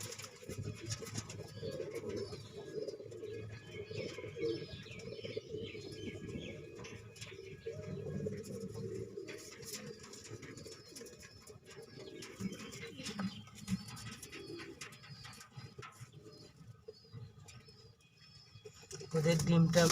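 Jalali pigeons sitting together on their nest and incubating eggs coo softly and steadily at close range, with a low murmuring voice underneath and a slight rustle of wings near the end.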